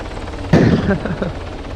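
Helicopter in the military simulation game Arma 3 starts abruptly with a loud rotor thump and whine, pulsing for about a second before easing under a steady background drone.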